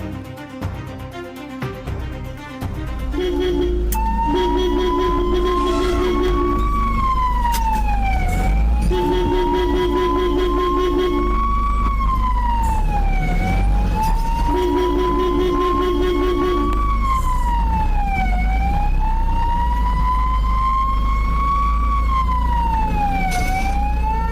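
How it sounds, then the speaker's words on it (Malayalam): An ambulance on a forest road in Idukki, Kerala sounds a loud wailing siren that rises and falls in repeated long sweeps over a steady engine rumble, close and continuous for the full stretch. "ആംബുലൻസ് ഹോൺ മുഴക്കിയതിനെ തുടർന്ന് കാട്ടാന വനത്തിലേക്ക് മടങ്ങി."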